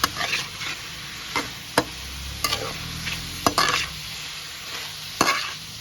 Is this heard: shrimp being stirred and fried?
yes